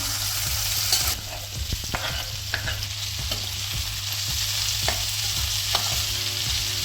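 Onion, carrot and capsicum sauté in a hot pan for hakka noodles, a continuous loud sizzle punctuated by regular scraping stirs of a spatula, close and steady.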